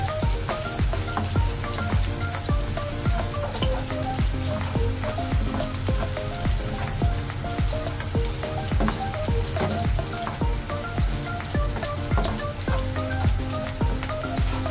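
Garlic and onion sautéing in a pan for sinigang na lapu lapu, a steady, close, loud sizzle that holds evenly throughout with no voices.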